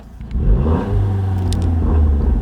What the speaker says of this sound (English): You give her one little rev.